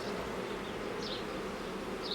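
Honeybees buzz steadily inside an open hive during an inspection, a dense close hum with a few louder individual bees passing by, with no talk over it.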